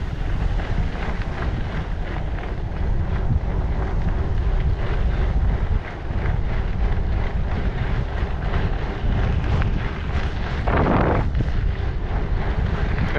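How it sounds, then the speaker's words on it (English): Strong wind buffets the microphone while cycling downhill along a rail trail in New Hampshire, a loud, continuous rushing roar with gusty fluctuations and no talk. "I'll have the wind on my back"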